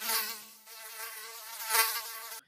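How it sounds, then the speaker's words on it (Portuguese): A mosquito whines in a steady, high-pitched buzz that swells slightly as if passing close, continuous for a couple of seconds before cutting off abruptly. "ninguém gosta de mosquito. Primeiro, porque eles fazem aquele barulho insuportável."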